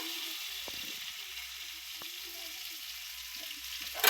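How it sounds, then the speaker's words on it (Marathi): Garlic fries in hot oil in a pan with a steady sizzle, and a spoon stirs it with a few soft scrapes and taps. There is no talk. "चांगलं लसूण भाजू द्यायचं"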